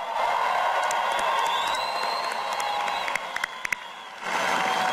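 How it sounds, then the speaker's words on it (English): A rally crowd in Defiance, Ohio cheers and applauds loudly, with whoops and shouts rising over sustained clapping close by. "Let's give them a big round of applause for helping Mitt."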